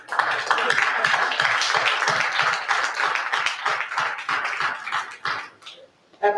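Audience applause at an orientation and honoring ceremony, a dense, loud burst of many hands clapping that holds steady for several seconds before thinning and fading out.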